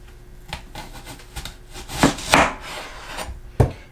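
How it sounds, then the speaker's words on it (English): A knife slices through an onion on a cutting board. Several separate cuts and scrapes come at an uneven pace, close and fairly crisp, and the two strongest strokes land toward the middle. "I'm going to go ahead and cut this onion in half"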